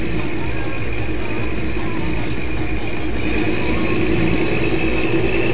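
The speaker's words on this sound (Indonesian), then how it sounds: "Ini Mas ini campur sama suara mesin." A bus engine in the game Bus Simulator Indonesia drones loudly and steadily, with a constant low rumble and hum that runs unbroken from start to end.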